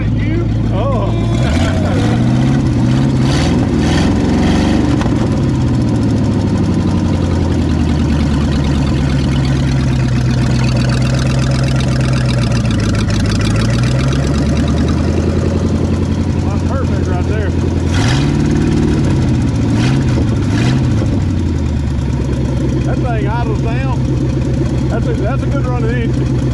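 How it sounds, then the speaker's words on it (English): A 1959 Ford Galaxie with a 352 V8 engine runs and idles steadily nearby, its loud rumble rising and falling with a few revs, with people talking over it throughout. "That's a good run of engine."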